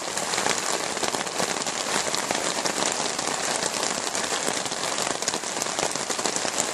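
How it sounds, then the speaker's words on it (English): Heavy rain pours steadily during a morning thunderstorm at a rustic camp, drumming on a canopy over a window as a dense, loud, continuous hiss with no thunder or talk. "It's a thunderstorm out there. It's really coming down. It's raining like cats and dogs."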